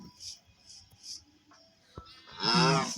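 A Minecraft cow moos loudly near the end, a drawn-out harmonic bellow after a stretch of quieter game ambience with soft chimes and small clicks, as the reluctant cow is led along to be bought for qurbani.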